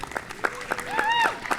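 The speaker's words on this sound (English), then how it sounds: "A big round of applause for our musicians and poets." Scattered hand claps from a small concert audience applauding musicians and poets at an outdoor creekside gathering, patchy and light, mixed with a voice speaking over them.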